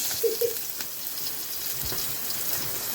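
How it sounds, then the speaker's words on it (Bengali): Onions frying in hot oil, giving a steady, soft sizzling hiss with a few faint pops and clinks near the start. "পেঁয়াজগুলো একটু ভাজি হোক"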